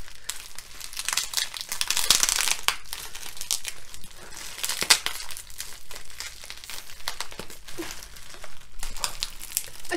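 Plastic packaging around Starbucks Sakura colour-changing cup merchandise is torn and crinkled open by hand without scissors, giving a continuous close crackling and rustling with sharper tearing bursts and no talking.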